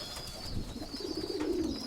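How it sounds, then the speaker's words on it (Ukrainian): In a pigeon breeding loft during feeding, young pigeon chicks let out faint squeaks, a short soft run of peeps near the end over quiet cooing and constant background hiss. "Пищать вже голубенята."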